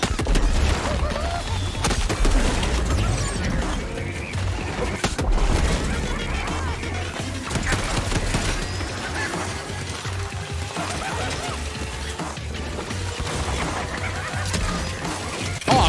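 Grenade launcher explosions in the first-person shooter Shadow Warrior 3, a dense run of crashing blasts and bursts that continue for about sixteen seconds at close range, loud and layered with other game effects.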